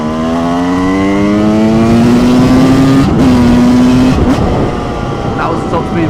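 A supermoto motorcycle engine holds high revs at top speed, its loud, steady whine rising slightly in pitch before a brief dip and easing off, with heavy wind noise throughout.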